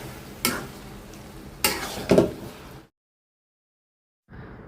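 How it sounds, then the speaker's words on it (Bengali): Chickpea curry with green chilies and coriander leaves stirred in a pan: a few scraping, clattering stirs over a soft sizzle, then a sudden silence before quieter sizzling resumes. "এখন জাস্ট একটু নেড়ে চেড়ে মিশাই"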